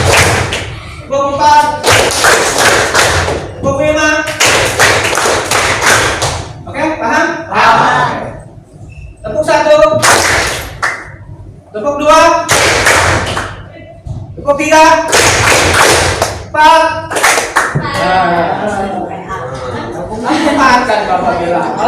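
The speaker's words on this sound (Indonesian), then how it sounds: "Sekarang kita main tepuk semangat ya" Rhythmic group hand claps from a counted clapping game in a classroom, with bursts of claps alternating with an adult's voice calling out counts.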